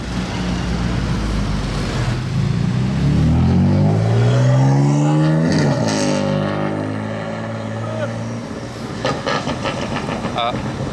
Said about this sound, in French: C'est bien une Aston Martin qui suit cette Lamborghini.